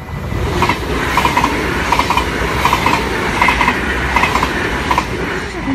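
A train runs along railway tracks near Maasbracht, loud and close, its wheels clicking in a steady repeating rhythm over a continuous rolling rumble.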